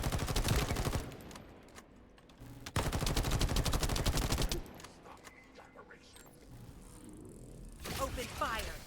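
Heavy gunfire rattles in The First Descendant, with bursts of rapid automatic shots in loud sustained volleys that pause briefly and resume, while game voices talk underneath.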